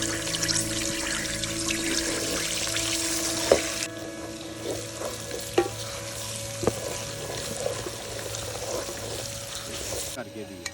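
Food sizzling and frying over an open wood-fired stove outdoors in the mountains of Arang Kel, Kashmir, with a continuous crackling hiss broken by occasional sharp knocks and clinks of a utensil against the pot.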